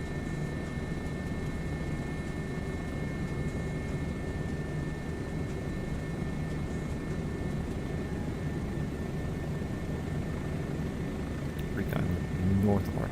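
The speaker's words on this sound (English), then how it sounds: "every sound on this helicopter, buttons, switches, startup, engine, whatever, this is all actually Roman Atwood's helicopter" Helicopter engine in a flight game, its sound recorded from Roman Atwood's real helicopter, holds a steady, dense droning hum with a faint whine throughout, swelling slightly near the end.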